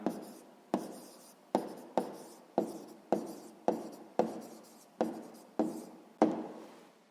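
Pen strokes on paper as a sixth-grade math answer is written by hand: about a dozen short, crisp scratching marks in an even rhythm, close and quiet, with no speech.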